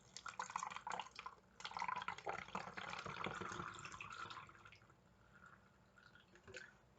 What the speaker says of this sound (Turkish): Hunimizi koyuyoruz. Suyumuzu alıyoruz, döküyoruz.